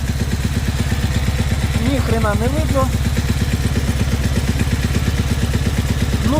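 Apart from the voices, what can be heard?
motorcycle engine idling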